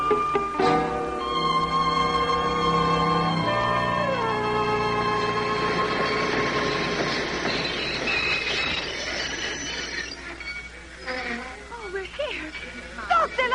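A train sound effect in a 1950 radio drama gives a close, sustained rumble with squealing wheels and shifting tones, while voices talk over it.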